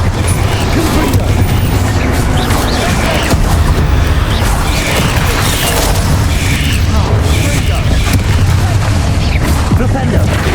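Confringo fire spell explosion in Hogwarts Legacy: a dense, loud, continuous roar of blasts and rumbling booms layered with combat noise throughout.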